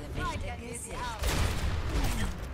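Rapid bursts of gunfire in the shooter game Overwatch, with the player on the hero Ashe. Short game tones come first, then the shots crackle loud and close through the second half.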